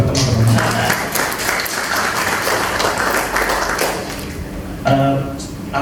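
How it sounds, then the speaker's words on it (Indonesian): An audience at a student democracy event claps in applause, a dense, sustained patter that stays fairly loud, with a voice speaking over it. "tepuk tangan dulu buat teman-teman"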